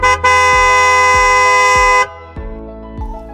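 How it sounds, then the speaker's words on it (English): A limousine horn blares in a loud, steady held honk for about two seconds, then a softer second tone follows, with a faint rhythmic low pulse underneath. "Limousine"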